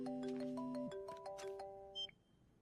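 Ringing tone of a phone call, heard as a few bright, steady electronic tones in a short repeating pattern that cuts off after about two seconds, with a faint click at the end and no speech.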